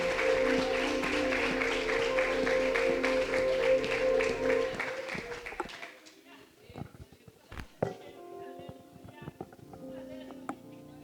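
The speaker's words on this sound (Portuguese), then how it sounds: "Você pode aplaudir a Ele." Applause rings out at a church youth service, dense clapping over a sustained musical chord for about five seconds, then thinning to scattered claps and shuffles as the room quiets.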